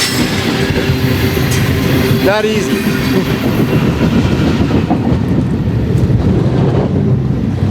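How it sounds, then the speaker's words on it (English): A train rumbles overhead on a bridge above a hiker, a loud continuous roar of wheels and cars with a brief squeal, as a voice speaks briefly over it. "Here comes another train too."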